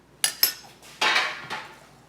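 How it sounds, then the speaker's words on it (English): A metal pan used for cooking lemon pepper salmon and asparagus clanks as it is moved, two sharp quick clinks followed by a louder scraping clatter and a final knock, close and without speech. "Let me get this pan out of here."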